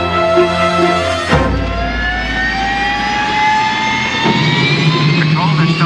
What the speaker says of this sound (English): They're starting the engine. They're firing up.